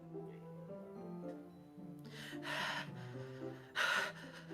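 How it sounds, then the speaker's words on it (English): Sharp inhaled breaths in the video game Doki Doki Literature Club, two distinct gasping intakes of air over quiet, droning background music, close and fairly soft. "It sounds like breathing. A sharp inhale, like someone is sucking the air through their teeth."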